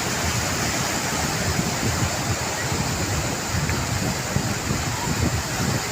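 Rough sea surf pounding a shoreline during a Ganpati immersion outing, a continuous close roar of crashing water mixed with wind buffeting the microphone, without breaks.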